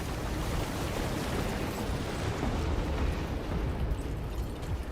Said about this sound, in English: Come on, 3 blood grenades.